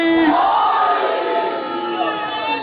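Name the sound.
crowd shouting a religious slogan in response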